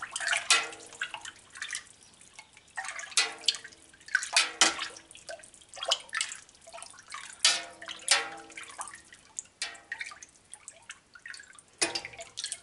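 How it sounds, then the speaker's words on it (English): Raw Jersey-Dexter cow's milk being stirred for Manchego cheese, giving soft liquid swishes and drips in irregular bursts, close and fairly quiet with no talking. "Just keep stirring."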